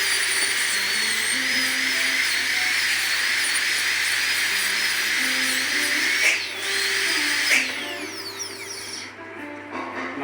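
A dental burr smooths and rounds the edges of a B6 rubber dam clamp, producing a close, high-pitched whining drill tone that shifts in pitch as it touches the metal, then winds down toward the end.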